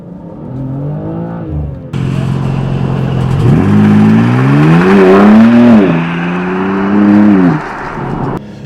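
A 2026 BMW M2 CS with its S58 straight-six accelerates hard on an autocross course, loud and close, its engine note rising and falling through several revving pulls and shifts.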